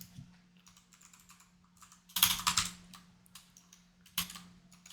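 Computer keyboard keys click quietly in irregular bursts, with a few louder clusters of rapid keystrokes, as a function is typed into an Excel spreadsheet.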